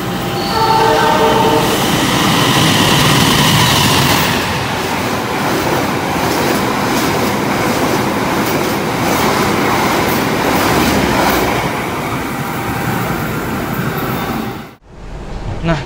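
The Argo Wilis train rushes past close by through an Indonesian station without stopping, a continuous roaring rumble with clattering wheels, heard from a waiting train, then cuts off abruptly near the end.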